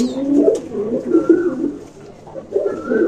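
Pigeons in a loft, including parents feeding a chick, coo close by in low, repeated throaty phrases with a short lull in the middle.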